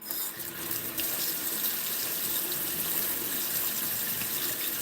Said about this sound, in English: I am holding my hand under the cold water